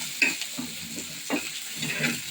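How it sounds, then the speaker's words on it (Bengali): Pabda fish with onion and spices frying in a pan while being stirred, a soft steady sizzle broken by several short scraping strokes, close and moderately quiet with no talk. "পাবদা মাছ ভোনা করার জন্য পেঁয়াজ মাছ দিয়ে দিয়েছি"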